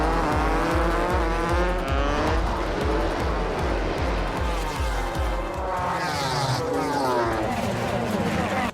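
At the start of a motorcycle race scene in a film, loud racing engines rev and roar together in pulsing bursts before rising into a sustained high whine, with voices mixed in.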